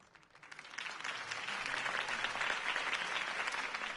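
Applause from a crowd in Batman: The Telltale Series swells up quickly and then holds steady as a dense, continuous patter of clapping.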